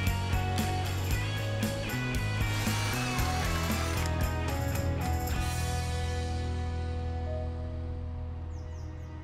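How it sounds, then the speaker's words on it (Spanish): A power drill runs in a garden setting, a steady mechanical whir that continues for about nine seconds with a music-like tonal drone beneath it. "Taladro."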